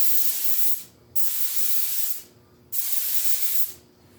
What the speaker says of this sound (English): So we're going to get the spray on some of this yellow